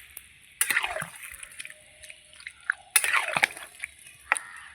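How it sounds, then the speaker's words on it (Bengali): Water poured into a pot of jackfruit curry with lentil fritters, arriving in two splashy, gurgling bursts with quieter drips and sloshing in between. "এবার আমি জল দিয়ে দেব।"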